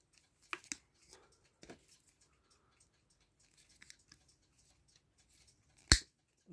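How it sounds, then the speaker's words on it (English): A cutter snips lantern pinion pins out of a clock, sparse sharp clicks and snaps, the loudest one near the end, amid near silence. "We're cutting pins."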